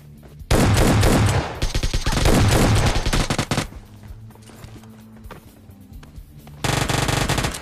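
Automatic gunfire in the battle royale video game PUBG Lite, rapid sustained bursts of shots, loud and close, with quieter distant firing in between and a final burst at the end.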